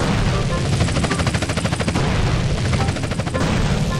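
Rapid gunfire in a GTA video game aimed at a police officer: a close, loud run of quick shots rattling over a rumbling background, ending in a brief lull.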